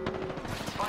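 Gunfire from weapons in the battle royale game Apex Legends, rapid bursts of shots crackling through the whole moment over game noise, with faint voice activity underneath.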